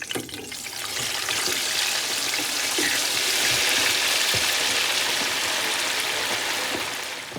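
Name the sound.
chicken drumsticks frying in a deep fryer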